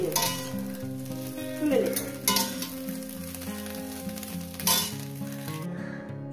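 An egg fries in oil in a wok for an okra and egg stir-fry, giving a loud, continuous sizzle with stirring swells and scrapes, cutting off at the end; a single word is spoken briefly.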